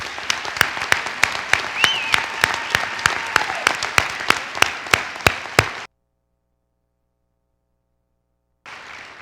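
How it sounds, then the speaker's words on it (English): Applause from the audience honoring awardees at the 2014 CMHS academic awards ceremony: a full, sustained crowd clapping with sharp, evenly spaced claps standing out for about six seconds, then abrupt silence, with noise returning briefly near the end. "how about one more round of applause, please, for our awardees"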